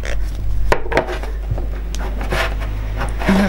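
An embroidery hoop holding calico being tightened: a few short scraping, rubbing and knocking sounds, close and over a steady low hum, with no talking.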